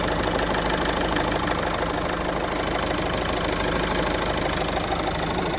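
A 2017 Renault Master 2.3 diesel van engine with an oily intake hose idles close up in Germany near Erfurt, a loud, even, steady diesel clatter that holds unchanged throughout with no talking.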